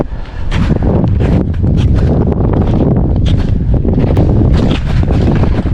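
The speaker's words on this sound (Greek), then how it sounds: "Ο αέρας δυναμώνει λίγο" Strong gusting winter mountain wind in the Agrafa mountains of Greece buffeting the microphone, a loud continuous roar with rumbling surges throughout.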